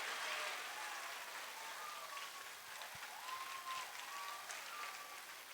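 Faint, steady applause from an audience at an award ceremony rattles on at a distance, with a few brief tones rising above the clapping.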